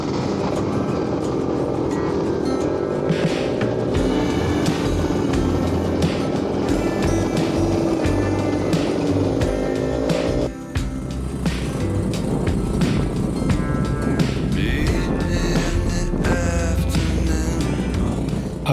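Classic scooters riding on an open road, a steady loud engine drone with a rising whine that cuts off midway, then continuing rougher motor noise, with no talking.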